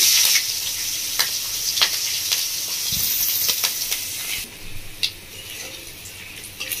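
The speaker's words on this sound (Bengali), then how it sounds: "ফোড়নটা ভালো করে একটু ভেজে নেবো আমি" Steady loud sizzle of green chillies and five-spice frying in hot oil, broken by occasional sharp stirring clicks and scrapes close by.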